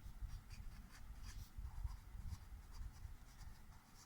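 Faint, rapid scratching strokes of writing on a board in a maths class, a soft irregular scribble close by with no speech over it.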